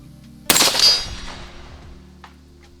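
A single loud rifle shot from a .308 with a 7.5-inch barrel, fired at a target 150 yards away outdoors, with a sharp crack followed by a long rolling echo that fades over about two seconds.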